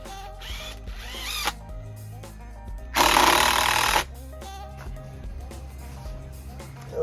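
A power drill drives a screw into wood for a DIY pallet fence at a glamp site: one loud, roughly one-second burst of whirring with clattering and handling noise before and after.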